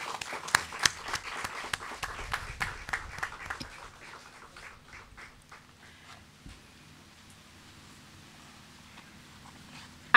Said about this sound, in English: Let us give Ms. Dawn French a round of applause.